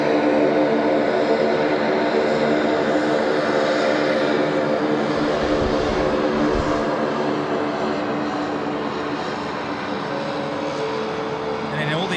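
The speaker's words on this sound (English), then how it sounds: "Hope you saw the F-35 with us there, going over runway 16 right here at Sydney International Airport." An F-35 fighter jet passes over runway 16 at Sydney International Airport, a loud, sustained engine roar that holds steady for the whole stretch, with voices talking over it.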